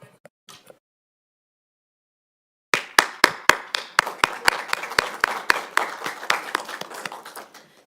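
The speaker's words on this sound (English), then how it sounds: "I'm clapping to commemorate the 35-year-long legacy celebration of Dr. Martin Luther King Jr." A single person claps hands at a school board meeting, a few scattered taps first, then after a pause a run of sharp, close, evenly spaced claps that quicken toward the end.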